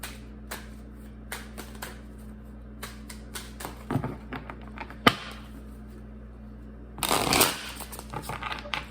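Tarot cards are shuffled by hand in a series of quick riffles and taps, close up, ending with a louder, longer flurry of shuffling.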